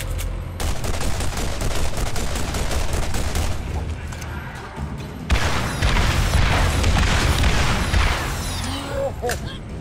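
Explosive pumpkins fired by an enemy in the game Borderlands, producing dense booming blasts and rattling gunfire that fill the scene continuously, with a louder burst of explosions midway and a voice talking.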